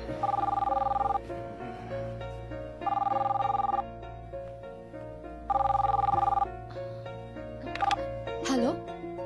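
A telephone rings in repeated bursts, each trilling ring separated by short pauses, loud and close, before a final brief electronic chirp; a low steady hum runs underneath.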